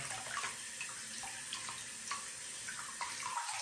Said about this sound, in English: Just quickly run it under the water.